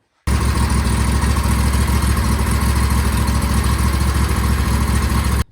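A John Deere riding mower's small engine runs after repair, a loud, steady, close idle that holds evenly from start to finish with no talking.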